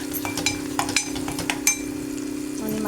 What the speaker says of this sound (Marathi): ते वाटण मी घालून घेतलं ते चांगलं 2-3 मिनटं चांगलं परतून घ्यायचं